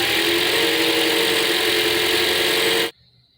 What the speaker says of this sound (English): Mine would grind sometimes when I start it.